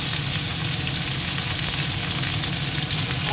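Ginger paste, ground cumin and turmeric fry in a pan with a steady, close sizzle that holds at an even level throughout, with no talking over it.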